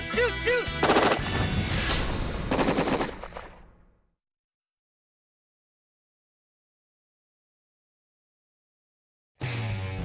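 Rapid burst of shotgun blasts during a youth pheasant hunt, loud and close, lasting several seconds before cutting to silence, with a short loud burst returning at the very end.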